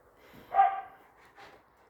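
A single dog gives a short bark, followed a moment later by a softer yip, both faint and fairly distant in an otherwise quiet room.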